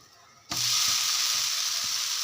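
Rice batter made with parboiled ration rice and no urad dal, poured as a dosa on a hot pan, bursts into a loud, steady hiss and crackle after a short quiet start and keeps frying close up.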